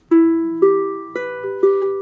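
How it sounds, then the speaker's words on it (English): Acoustic guitar fingerpicked through a chord change, four plucked notes in a steady rhythm, each ringing and overlapping, close and unaccompanied. "So playing it through the chords,"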